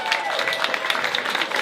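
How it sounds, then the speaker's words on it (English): An audience at a comedy club claps loudly and continuously, a dense patter of many hands close by with scattered cheers, lasting the whole short moment. "Give them a big round of applause."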